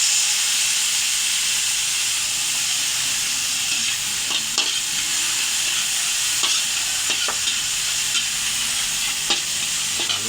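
Tomato and onion sauté in a pan for ginisang ampalaya with a loud, steady sizzle and hiss, broken by occasional scrapes and knocks of stirring.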